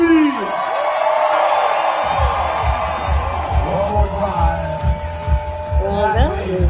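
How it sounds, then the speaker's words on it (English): A crowd at an Ironman triathlon finish line screams and whoops on cue, a loud sustained roar of many voices with rising shrieks, an announcer's voice weaving through it. "On three, everybody scream."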